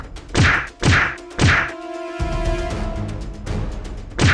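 Cartoon fight effects ring out: three punchy, close thwacks in quick succession, then a sustained ringing, groaning tone, followed by softer thumps near the end.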